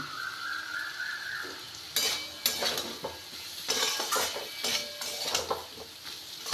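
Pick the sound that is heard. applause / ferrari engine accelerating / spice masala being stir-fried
spice masala being stir-fried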